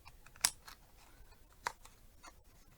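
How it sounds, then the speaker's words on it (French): Scissors cutting a paper card for a Christmas craft, giving a couple of crisp snips close by against a quiet background. "On va prendre une paire de ciseaux et on va commencer à couper."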